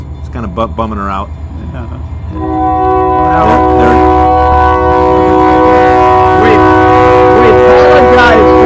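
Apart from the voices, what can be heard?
train passing and blowing its horn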